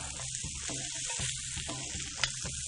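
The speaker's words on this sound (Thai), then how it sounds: "ใส่ผักที่สุกยากเล็กน้อยลงไปก่อนนะครับ ก็มีคะน้าแครอทแล้วก็ข้าวโพดครับ เร่งไฟครับผม ตามด้วยเห็ดนางรมนะครับ" Kale, carrot, corn and oyster mushrooms stir-fried over high heat in a wok, a steady loud sizzle with repeated scraping stirs and a brief clatter near the end, no talking.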